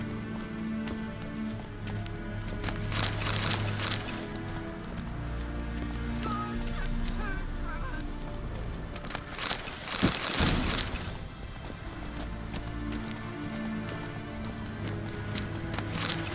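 Horse hooves clip-clopping in The Witcher 3: Wild Hunt video game, a steady rhythmic trot with louder clustered strikes midway, set against soft in-game ambience.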